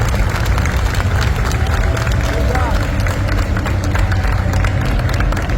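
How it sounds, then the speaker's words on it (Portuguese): Audience at a TokuSato panel event applauding steadily and densely throughout, a broad wash of clapping with crowd murmur and scattered voices mixed in. "vou pedir mais uma salva de palmas"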